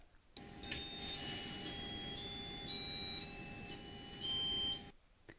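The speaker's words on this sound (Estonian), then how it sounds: "Siinkohas asub Edisoni kõlar, mis oskab teha piiksu või mängida noote." Beeps and short electronic tones from the built-in speaker of an Edison educational robot, a steady series of bright, close, fairly loud tones with a few pitch changes, heard alone without talk.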